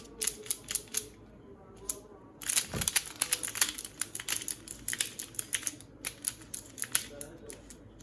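A new GMS Pyraminx twisty puzzle is turned by hand, producing rapid close bursts of plastic clicking and clacking with brief pauses between flurries.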